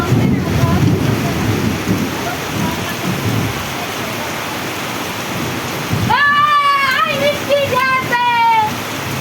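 Heavy rain pours steadily across a Bengali village, with a deep rumble that may be thunder early on. A voice rises over the downpour near the end.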